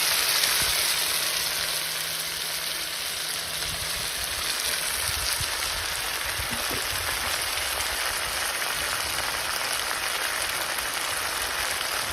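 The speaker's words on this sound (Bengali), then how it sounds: "এবার আমি মেখে রাখা মাংসটা দিয়ে দেবো।" Marinated mutton sizzles steadily as it is added to onions already fried reddish in a pan for a traditional home-style mutton curry, a continuous, close, fairly loud hiss with no talking.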